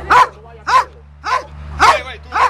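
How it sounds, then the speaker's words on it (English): A Belgian Malinois police dog barking: five sharp, loud barks spaced roughly half a second apart, close by, over a steady low hum. "Well, the dog is a Belgian Malinois."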